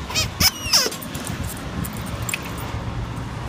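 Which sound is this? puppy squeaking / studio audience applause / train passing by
puppy squeaking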